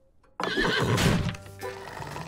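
After a brief quiet moment, a horse in a cartoon episode lets out a loud, close whinny that rises and then trails off.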